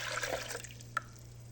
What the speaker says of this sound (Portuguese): Vou colocar aqui 600 ml de água.